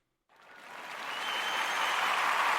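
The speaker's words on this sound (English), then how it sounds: "Thunderous applause." Applause sound effect from a soundboard starts after a short silence and swells into a steady wash of crowd clapping, growing louder and holding near the end, with no voices over it.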